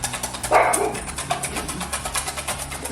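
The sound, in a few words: dog barking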